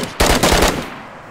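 Rapid bursts of automatic gunfire in a squad-based shooter video game, loud and close, a dense volley of several quick shots followed by a fading tail, with no talking.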